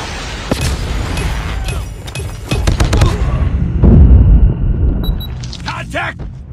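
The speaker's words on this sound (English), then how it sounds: "Friendly Predator missile inbound." A Predator missile strike in Call of Duty lands as a deep, rumbling explosion mid-clip, among sharp gunfire cracks and game effects, loud and close.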